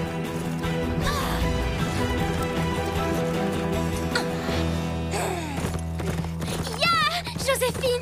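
Joséphine the horse gallops in a steady clip-clop, with a sharp whinny near the end, under music and voices.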